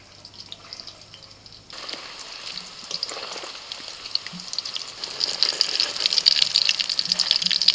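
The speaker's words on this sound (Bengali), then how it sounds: "একবার ভাজা হয়ে গেছে, আবারও কিছু পিঠে ছেড়ে দিলাম।" Sweet potato pitha stuffed with kheer crackle in hot oil as a fresh batch goes in, the sizzle jumping louder after a quiet start and building into a busy, bubbling hiss.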